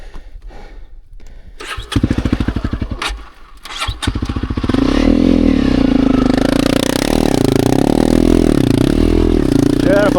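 A dirt bike engine clatters and idles, then revs hard and holds a loud, wavering roar as the rider climbs over an obstacle on a trail in Sundown National Park.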